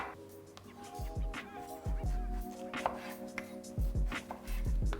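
A knife chops red onion and watermelon on a cutting board for a garnish: a quick series of sharp, close taps in uneven bursts, with faint kitchen background and no speech.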